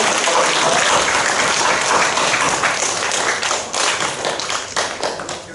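Congregation applause during a Monday worship service at a church for retired pastors, loud close clapping that is dense at first and thins slightly toward the end.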